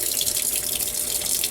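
Water pours into a washing machine drum holding cloth diapers with borax and detergent, a steady close rushing splash without pause and no talking.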